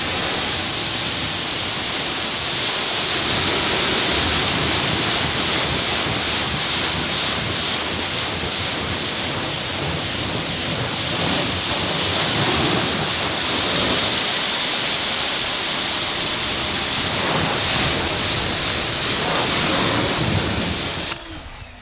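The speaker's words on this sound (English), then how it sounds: "We got the filter on, we're rinsing." Steady broadband hiss of water spraying from a hose nozzle fitted with a portable deionizer filter as a car is rinsed, loud and continuous for the whole stretch, with no talking.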